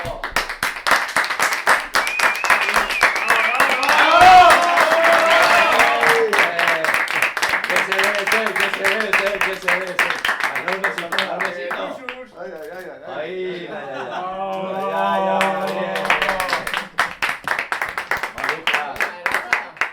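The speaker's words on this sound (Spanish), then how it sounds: "¡Un aplauso!" Wedding guests clap in a dining room at Mas les Lloses as the bride arrives, the applause rising and fading over steady chatter, with several voices talking throughout.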